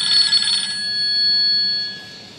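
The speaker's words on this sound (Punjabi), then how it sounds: "ਮੈਨੂੰ ਲੱਗਦਾ ਪਹਿਲੇ ਫੋਨ ਸੁਣ ਲਈ" A phone rings in steady electronic tones, clear and fairly close, with a bright burst at the start and then a sustained tone that fades away, and no talking.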